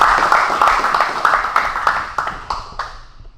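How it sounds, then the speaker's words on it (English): Applause at a Muay Thai gym promotion ceremony, with a handful of people clapping in loose, uneven bursts that thin out and fade near the end, recorded close, no talking. "so give him a round of applause"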